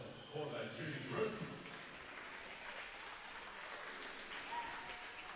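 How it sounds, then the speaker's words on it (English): Crowd applause at a women's NBL1 basketball game between Kilsyth and Melbourne, cheering the Kilsyth under-14 junior group; a steady wash of clapping fills the arena throughout, with a few sharper peaks early on. "How about a big round of applause for the junior group?"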